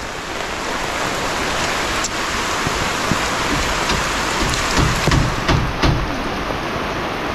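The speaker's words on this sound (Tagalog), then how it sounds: "Lakas yung ulan." Heavy rain pouring down loudly and steadily over crops in a field, a dense, continuous roar with scattered louder drops and splashes.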